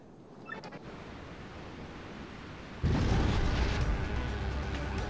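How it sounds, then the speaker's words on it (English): An explosion in Paper Mario: The Thousand-Year Door, a sudden broad noisy burst after a quiet, hissing lead-in, then a sustained rumbling wash that stays loud to the end. "That wasn't much of like a, a rock face explosion, was it?"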